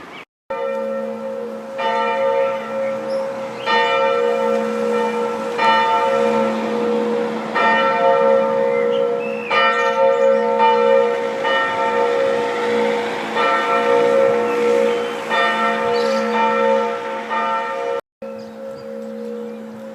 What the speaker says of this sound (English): And now the bells for 7 o'clock mass.